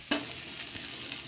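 Jackfruit seed appam fries in a pan with very little oil, giving a soft, steady sizzle after a short sharp clink at the start.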